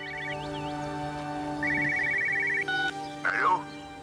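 A telephone rings in the video game Everybody's Gone to the Rapture, heard as a bright repeating electronic trill in short bursts over a steady low hum, with a few other tones and chirps around it.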